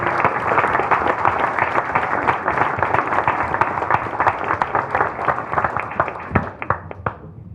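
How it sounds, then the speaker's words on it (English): Crowd applause at a mayor's evening community event, steady close clapping from many hands that carries on evenly before tapering off at the end. "Can you give him a big round of applause"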